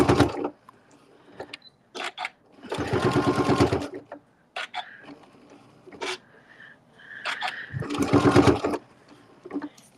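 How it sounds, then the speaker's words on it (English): Domestic sewing machine stitching a straight seam across a fabric panel for a bag, running in two bursts of a few seconds each, close and fairly loud, with quiet handling noises between the runs. "we're going to take this and just stitch across"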